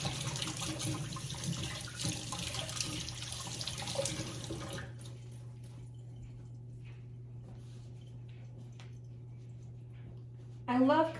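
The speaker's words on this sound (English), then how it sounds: "I'm gonna wash my hands real quick" Running tap water splashing into a kitchen sink as hands are washed during home cooking of a pork tenderloin, a steady close rush for several seconds that then drops to a quiet hum with faint drips.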